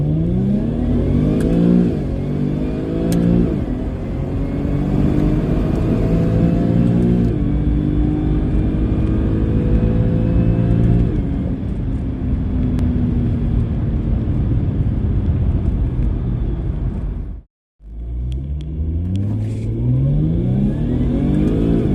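A supercharged V6 Jaguar sedan with a Stage 3 transmission tune accelerates hard, its engine climbing loud and close through several quick upshifts, then cuts out abruptly before revving again.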